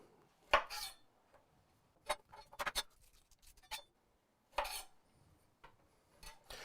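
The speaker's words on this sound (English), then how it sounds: "grab a garlic clove here, crush that" A garlic clove is crushed and cut on a board, giving sparse, sharp knocks and clacks of a knife, some single and some in quick clusters, with quiet pauses between and no talking.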